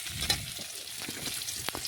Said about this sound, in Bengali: পেঁয়াজটা লাল লাল ভেজে নেব